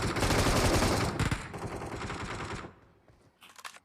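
Loud, rapid gunfire in PUBG Mobile rattles in sustained bursts, then drops away to a few scattered shots.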